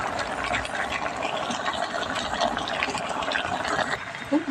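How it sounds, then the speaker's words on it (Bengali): Sugar syrup boils down in a pan to thicken for ash gourd murabba, a steady dense bubbling hiss filling the clip at moderate level with no talk. "এই রসটা আরেকটু গাঢ় করে ফুটিয়ে নেব"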